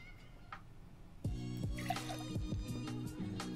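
Fresh lemon juice pours for a whiskey sour, a few faint drips giving way to a quiet, gurgling trickle that fills a container, close and soft with no talking.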